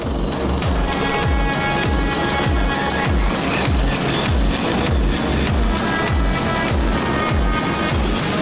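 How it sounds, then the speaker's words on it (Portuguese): Portuguese Navy Lynx Mk 95 helicopter with a loud, close, steady rotor thump that beats in a fast, regular rhythm over a constant engine and turbine roar, with no talking. "Nós atrás temos um Lynx Mark 95, portanto, é os Lynx, os helicópteros da Marinha de Guerra Portuguesa."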